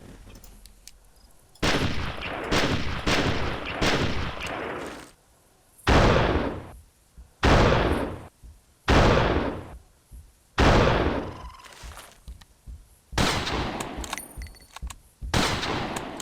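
Hunting rifle shots in the video game Carnivores Divergent, about ten loud separate blasts, each with a short decaying tail, spaced irregularly over quiet background.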